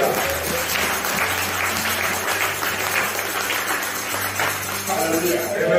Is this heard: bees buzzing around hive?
no